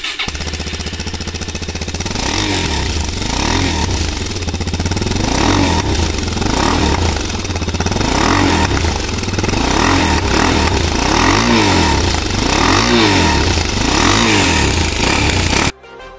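A Suzuki DRZ400SM motorcycle exhaust barks close up as the single-cylinder engine is revved repeatedly in rising and falling surges over a steady idle, cutting off at the end.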